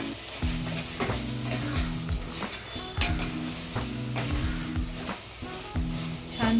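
Spices stirred into an onion-tomato paste in a pan for prawn pulao: repeated scraping stirs and clinks of a spoon over a low sizzle, close and fairly loud, no talking.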